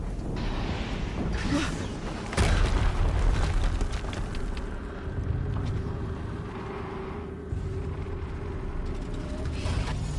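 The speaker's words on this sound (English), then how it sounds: "Another explosion." A booming explosion inside the game Horizon Zero Dawn, a heavy low rumble with a sharp burst partway through, over continuous game ambience and rumbling noise.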